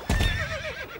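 A horse in the video game Star Stable Online lets out one short, clear neigh with a wavering whinny, close and loud, starting with a low snort-like burst.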